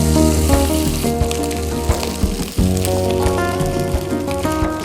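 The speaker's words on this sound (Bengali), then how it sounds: "ভাতটা এমনিতেই রান্না করা ছিল, আমরা জাস্ট একটু ঘি দিয়ে ভালো করে ভেজে নিলাম।" Cooked rice with peas and ginger paste frying in ghee, a loud continuous sizzle with crackling and stirring clatter, a brief dip midway, no talking.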